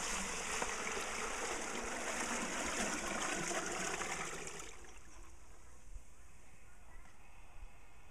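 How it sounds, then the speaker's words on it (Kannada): Twenty litres of water poured slowly into a vessel holding half a kilogram of lime, a steady rushing pour for about four and a half seconds before it drops to a softer trickle. "ಈಗ 20 ಲೀಟರ್ ನೀರು ನಿಧಾನಕ್ಕೆ ಹಾಕಬೇಕು"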